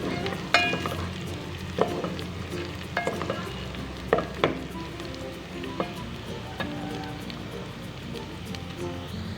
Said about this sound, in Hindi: देखें हमारी प्याज लाइट पिंक होना शुरू हो गई